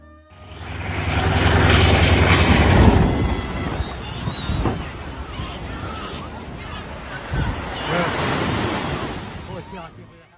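Sea waves surge at a reef break as a TBM Avenger ditches at sea, a loud, rushing roar of surf and wind buffeting the microphone, swelling and easing over several seconds.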